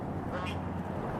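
Ducks quacking along the Cibolo Trail in Boerne, Texas, a short burst of nasal calls over a low outdoor rumble, fairly faint and distant.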